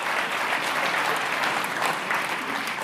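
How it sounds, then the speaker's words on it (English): Audience applause at an industry association gathering, a full, even wash of many people clapping, sustained at steady loudness from start to end with no talk. "Give him a round of applause."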